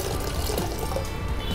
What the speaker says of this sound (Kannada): ಇನ್ನು ಸ್ವಲ್ಪ ನೀರು ಹಾಕ್ತೀನಿ